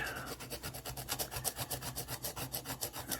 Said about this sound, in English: Listen to that, just grinding that rust off.